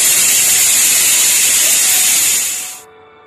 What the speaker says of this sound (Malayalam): ഇത് അടച്ച് വെച്ച് ഒരു നാല് വിസിൽ വരുന്നവരെ വേവിച്ചെടുക്കാം.